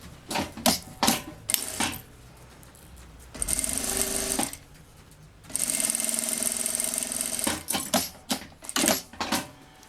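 A sewing machine stitches zipper binding onto a children's backpack, in loud bursts of rapid mechanical stitching with short pauses, then two longer continuous runs of whirring stitching.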